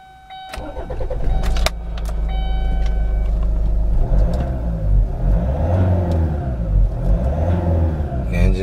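A 2005 Kia Sportage 2WD TLX engine cranks and catches, then settles into a steady idle. It sounds close and fairly loud, with no talk over it.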